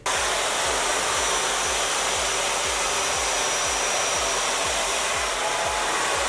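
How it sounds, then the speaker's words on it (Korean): A hair dryer blows steadily throughout while hair is brushed and styled, a constant loud whooshing hum close by, with no talking. "이렇게 빗을 대고 이렇게 드라이기 바람을 대면서 쭉 올려서"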